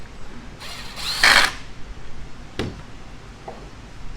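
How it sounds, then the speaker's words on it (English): A power drill drives 3-inch wood screws into wooden paddles for four-wheeler tires, with one loud whirring burst in the middle and a couple of sharp clicks after it. "we're putting 3-inch wood screws all the way through so we have total embedment"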